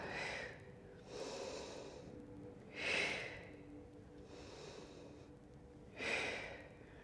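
Slow, deliberate breathing during a Pilates exercise, with rhythmic breaths through the nose and mouth repeating every one to three seconds, close and quiet, with stronger exhales at regular intervals and no talking.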